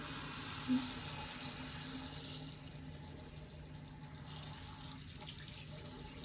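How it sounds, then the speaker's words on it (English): Warm water running steadily from a faucet at a sink during hand hygiene, a constant faint hiss and splash that holds even for several seconds with no voices. "turn on the faucet, make sure it's warm, not too hot and not too cold"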